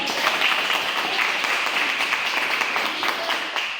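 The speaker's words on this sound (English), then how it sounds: "Let's give her a round of applause." A teen workshop audience breaks into lively applause, many hands clapping at once in a steady dense wash that stays even for several seconds.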